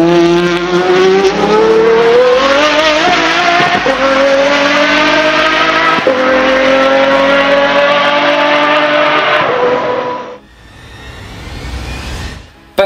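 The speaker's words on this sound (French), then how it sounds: "Son V12 de 6 litres, développé par AMG, produit un rugissement de 118 décibels." A 6-litre AMG-built V12 in a track-only hypercar roars loudly and steadily for about ten seconds, its pitch rising as it accelerates, before it cuts off and a fainter rising whine builds.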